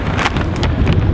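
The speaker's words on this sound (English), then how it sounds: "Oh god, it's windy round this side." Gusty wind buffets the microphone outdoors at Blackpool Tower, a loud continuous low rumble with short bursts throughout.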